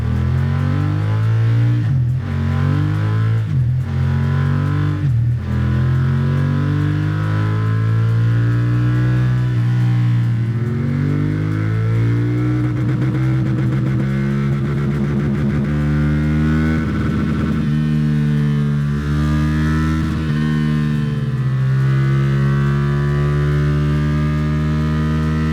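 A BMW F900R motorcycle engine revving on a dyno during runs to clear an ECU restriction: a loud, sustained drone that climbs and falls in pitch, with sharp throttle blips early on and long steady pulls later.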